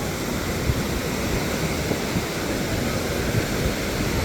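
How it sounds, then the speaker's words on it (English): Ocean surf breaking on a crowded beach on an overcast summer day, a steady broadband wash of waves with faint swells and some wind noise, no voices. "Not too many big waves. There's a couple breaking over there, I guess."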